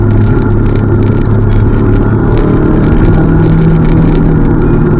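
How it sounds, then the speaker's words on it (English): A loud Audi S4 fitted with a modified intake and exhaust, its engine giving a steady, dense low rumble that holds at a constant level throughout with no speech over it. "The S4 has a sensory experience in a different way because it's loud."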